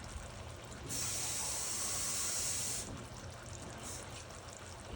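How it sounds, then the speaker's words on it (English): Water poured from a can into a pot of beef stroganoff on the stove, a steady hissing pour lasting about two seconds over faint kitchen background, quiet and close. "we're going to just use the can, but we're going to add a little water."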